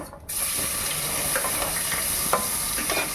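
Onions and green chillies sizzle steadily in reused cooking oil in a pan for a brinjal curry, a loud, continuous hiss with faint stirring scrapes and no voices.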